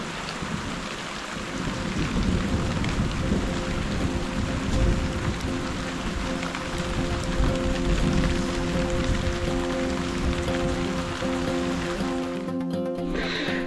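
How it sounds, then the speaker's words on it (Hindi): Heavy, steady rain pours down loudly and without a break on a village, with a low rumble underneath, before the sound drops away at the end. "दोस्तों झमाझम बारिश हो रही है इस गांव में।"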